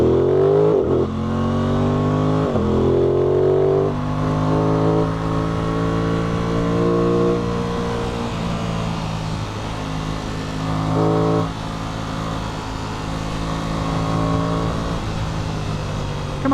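A 2021 Aprilia Tuono 660 motorcycle pulls away and accelerates hard, its engine loud and close, climbing through the revs with audible gear shifts before settling into a steady drone at speed.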